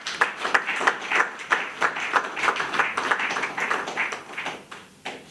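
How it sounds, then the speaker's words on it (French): Audience applause at a political gathering, a dense and fairly loud patter of many hands clapping together without pause before it thins near the end. "que je demande d'applaudir fortement"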